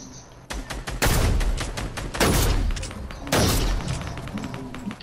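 Gunfire in the Fortnite video game: three loud, sharp bursts of shots with rattling tails, spaced about a second apart against a quieter background.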